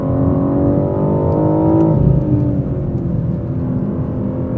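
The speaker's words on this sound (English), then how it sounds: "I'm operating the 8-speed automatic in manual mode, and the shifts are coming quickly up and down." A BMW M4 Competition Coupe with an 8-speed automatic in manual mode revs up loudly and close, then its engine pitch drops sharply at a quick shift before climbing again.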